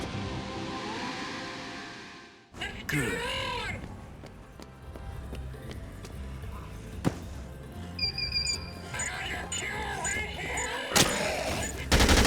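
Gunfire from a teddy-bear turret armed with a light machine gun in the video game Dead Rising 2, heard as a few loud, sharp bursts scattered among busy in-game noise, following a stretch of steady hiss.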